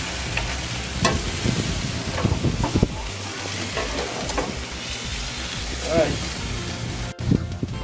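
Pork chops in marinade cooking on a grill give a steady sizzle and hiss throughout, with scraping and handling noises and a person talking over the cooking.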